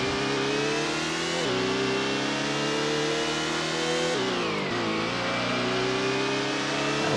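A race car engine in the PS1 game Gran Turismo (1998) revs hard and loud throughout, its pitch climbing then briefly dipping at gear shifts before climbing again, with no talking.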